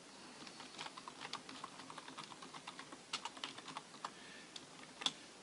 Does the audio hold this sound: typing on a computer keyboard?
yes